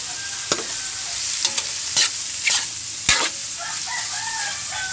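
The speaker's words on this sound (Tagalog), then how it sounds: "So, gisa-gisa lang ng konti." Pork sautéing in a pan for dinuguan, a steady sizzle with several sharp stirring scrapes and clacks of a utensil against the pan, close and fairly loud, with faint rooster crowing in the background.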